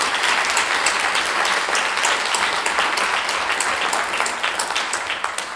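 Sustained, dense applause from a civic forum audience honoring volunteers, loud and even throughout with no talking, tapering slightly at the end.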